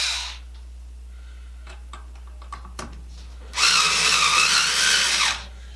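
A power drill whirs in a sustained burst of about two seconds, driving screws while wiring a living room outlet, preceded by a few quiet clicks and taps.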